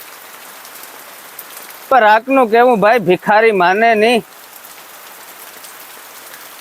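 Rain falls in a steady, soft patter throughout, while someone speaks loudly for about two seconds in the middle.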